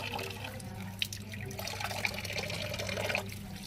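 Tap water runs steadily while pomfret fish is washed under it in a sink. The splashing is soft and continuous, with a few small drips and clinks.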